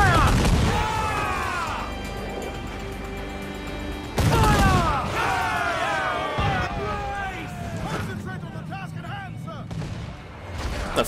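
Ship cannons firing in broadside during a naval battle in Assassin's Creed IV Black Flag, heavy booming volleys rolling one after another under shouted crew voices and a tonal musical score.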